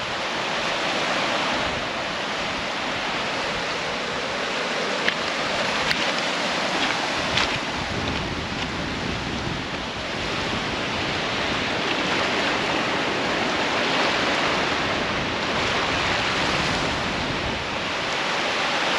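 Continuous surf and waves roll against a rocky shore, broad and rushing, with wind buffeting the microphone throughout.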